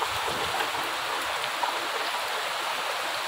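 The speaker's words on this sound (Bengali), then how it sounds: "বাতাস খুব একটা বইছে না, কিন্তু বৃষ্টিটা খুব বেশি।" Heavy rain pours down in a dense, steady roar with little wind, constant and close, with no voices.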